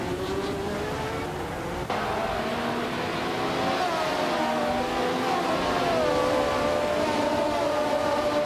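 A classic 1976 McLaren M26 and other race cars pull away from the start at Albert Park in a racing video game, a steady droning engine note climbing in pitch with no talk over it.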